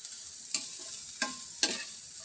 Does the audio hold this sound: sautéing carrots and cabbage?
yes